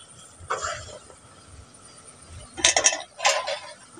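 Utensil scraping and clinking against a cooking pan as raw mango jelly pickle is stirred, with a brief metallic scrape early on and two louder clattering bursts near the end, close and fairly quiet.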